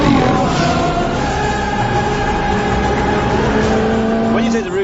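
Ferrari 458 Spider mid-engine supercar running loud and steady close by, its engine note holding with a smooth, sustained tone and a slight rise in revs near the end, with no pauses across the stretch.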